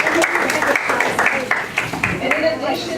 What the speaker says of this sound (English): If you can join me in clapping for the entire youth.